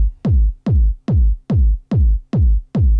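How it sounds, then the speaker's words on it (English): Kick drum sample for a speed garage track in Ableton Live thumps alone seven times in a steady four-on-the-floor pulse, each hit punchy, deep and booming with a fast decaying tail. "Firstly, we've got this kick."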